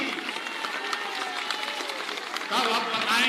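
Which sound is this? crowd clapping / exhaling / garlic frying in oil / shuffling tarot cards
crowd clapping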